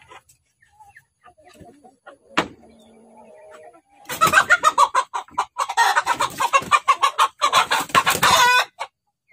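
White-legged chickens and a rooster in a coop cluck and squawk in a loud, busy chorus that swells after a quiet start with faint sounds and a sharp knock, close by with no clear talk.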